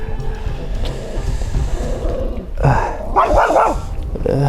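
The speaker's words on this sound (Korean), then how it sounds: "강아지의 적극적인 의사소통이 한편으로는 반갑더라고요" A puppy barks in a series of loud, close yips and barks on a cold street, the burst strongest in the second half over steady outdoor background noise.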